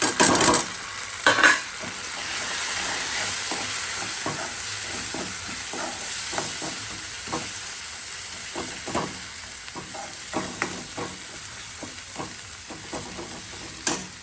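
Ground spices fry together with softened tomatoes in a pan, giving a continuous close sizzle and hiss under irregular scrapes and taps of a spoon stirring against the metal, with no talking.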